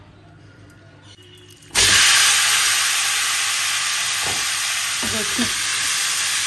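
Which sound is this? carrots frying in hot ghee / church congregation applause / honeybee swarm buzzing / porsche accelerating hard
carrots frying in hot ghee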